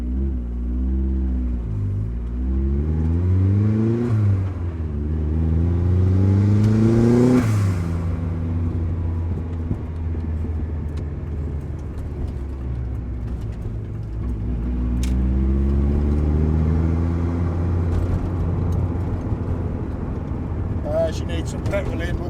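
A turbocharged Mazda MX-5 Miata, boosted to 25 psi and making about 280 hp, rumbles and revs from inside the cabin while driving, its engine note climbing and falling through several rising sweeps, steady and fairly loud throughout.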